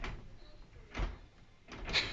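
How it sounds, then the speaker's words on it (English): A narrowboat door opened by an apprentice gives soft thumps and a sliding clunk, two or three muted movements close by with light background noise. "he's just going to show us how to open the door"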